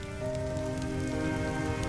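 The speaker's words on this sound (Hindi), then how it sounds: "लखन का परिवार तेज बारिश में बीच सड़क पर भीग रहा था" Heavy rain pours steadily onto a road, a dense, loud, unbroken hiss with no voices over it.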